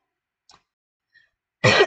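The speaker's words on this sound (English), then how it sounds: "I still have quite the cough from being sick" A single harsh cough from a person recovering from illness, loud and close, bursting out after near silence with a couple of faint soft sounds before it.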